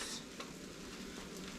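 Three-pepper quesadillas sizzle on a hot griddle, a steady close hiss of frying with a few faint scrapes, no voices over it.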